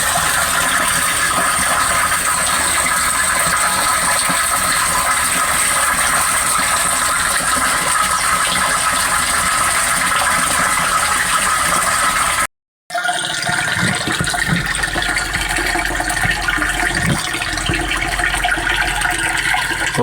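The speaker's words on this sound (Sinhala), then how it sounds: "ඔබට පේනවා ඇති දැන් මෝටරේ ඔන් වුණා." A water pump motor runs steadily as it fills a tank, giving a constant mechanical drone mixed with rushing water. A brief dropout breaks the sound midway before it resumes.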